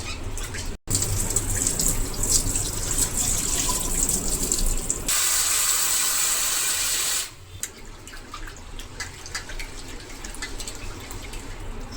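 Lentils and rice being washed by hand in water at a kitchen sink while preparing Amdavadi handvo, with steady running and splashing water that shifts into a heavier, louder gush partway through before settling back to sloshing.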